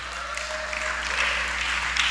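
A church congregation claps together in a steady wash of applause that swells slightly toward the end, moderately loud and without talk over it.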